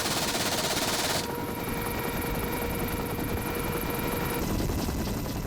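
A Lynx Mark 8 military helicopter armed with a half-inch machine gun roars with loud rotor and engine noise while rapid machine-gun bursts crackle over it, close and continuous.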